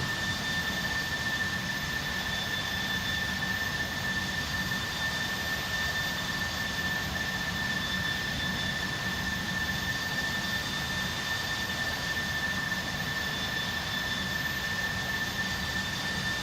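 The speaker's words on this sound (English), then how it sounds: "Currently at flight level 350 in the Airbus A330-900 NEO." Steady, unbroken cabin drone of an Airbus A330-900 NEO cruising at altitude in the Prepar3D v5 flight simulator, a constant engine roar with a faint high whine, no voices.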